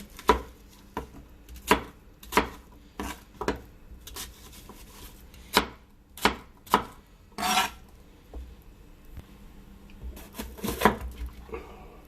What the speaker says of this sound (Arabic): وهلا بنقطع البصل بهي الطريقة